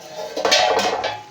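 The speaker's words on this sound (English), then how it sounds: "so let me cover the pot" A metal lid set onto a cooking pot of Edikang Ikong soup, giving a short run of clattering, clinking metal knocks close by, with no talk.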